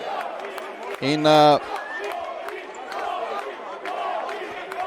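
Basketball fans in a Slovenian arena during a Krka versus Ilirija game, with a murmuring crowd and scattered shouts, a brief loud sustained chant or whistle near the start, and shoe squeaks and thuds throughout.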